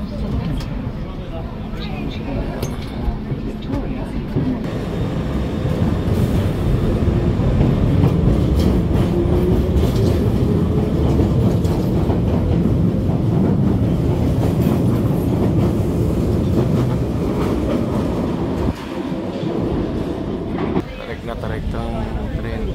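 A crowded passenger train runs on rails with a continuous loud rumble and rhythmic wheel clatter, steady for most of the stretch before easing near the end, with voices faintly underneath.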